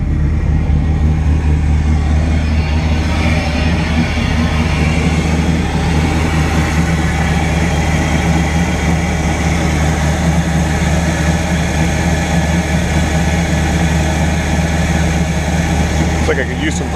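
A 1986 Pontiac Trans Am with a swapped LQ4 V8 idling loudly right after a cold start following two months of sitting, a dense rough rumble that holds steady throughout, close and unbroken.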